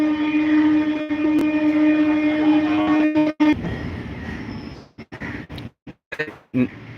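A train rumbles past on a line beside the Ganges near a cremation ghat, with a long, steady horn-like tone, then the noise breaks into rattling clatter and drops away in choppy bursts.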